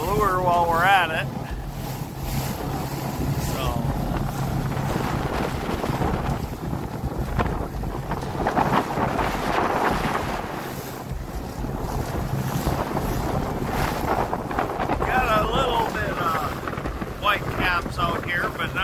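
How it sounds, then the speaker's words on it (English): A boat out on a lake toward a dam on a windy day, with steady wind buffeting the microphone and water and engine noise running continuously throughout. "It's a little bit windy, but we're headed up towards the dam just to try the boat out"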